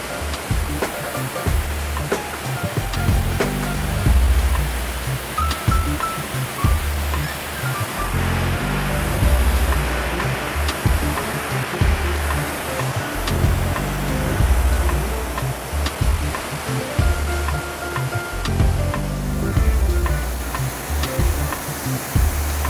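Kärcher HDS compact-class hot water pressure washer spraying, a loud, steady, broadband hiss of water jet that holds without pause for the whole stretch.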